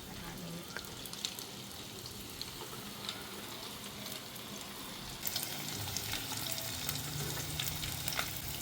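Pieces sizzle and crackle in overly hot oil for Japanese curry, with three pieces going in. The frying hiss is steady and close, swelling louder about halfway through, with no talk.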